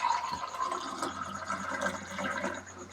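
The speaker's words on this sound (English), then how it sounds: "Right now you can see that I am putting the water into the glass." Water trickles and splashes as it is poured into a glass, a soft, uneven stream heard alone at close range, ending with a brief louder clink or splash.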